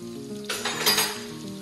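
Garlic hits hot olive oil in a pan and breaks into a sudden bright sizzle that swells, then settles into steady crackling, heard close over a faint low hum, with no one speaking.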